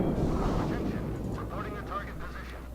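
Naval artillery in the World of Warships video game lets off a heavy booming salvo at the start, which then rumbles and fades into a lingering low roar.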